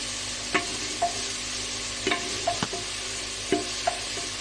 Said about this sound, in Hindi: मिक्स करने के बाद हमने इसको हल्का सा कुक करना है।